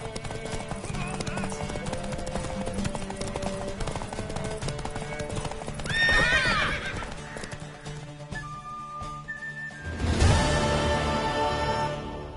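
Horse hooves clip-clop steadily over a busy background of video game music and effects, with a horse whinnying midway and a louder burst near the end.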